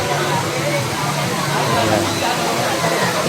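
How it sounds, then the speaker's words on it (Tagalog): Waterfall at Balite Falls resort in Amadeo, Cavite, a loud, steady rushing roar of falling water, with people talking over it. "ito yung sinasabi ang Maliti Falls"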